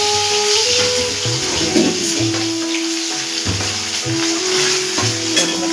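Koi fish frying in oil in a home kitchen, a steady loud sizzle with occasional stirring and scraping sounds on top.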